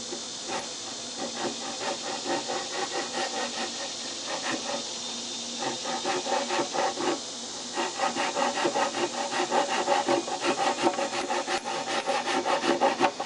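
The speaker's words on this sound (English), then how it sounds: "I'm just going to cut that, use the ripping teeth." A handsaw rips through a wooden board with its ripping teeth while building a saw horse, producing steady rasping back-and-forth strokes up close that grow louder and faster toward the end, no talking.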